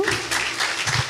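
Applause from a church audience after a Christmas carol, short and moderately loud, with a broad clapping wash and some voices mixed in.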